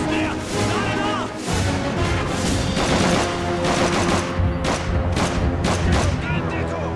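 Dense gunfire from the Call of Duty 3 game, rapid bursts and booming shots layered into continuous battle noise, loud and close, with a voice partly under it.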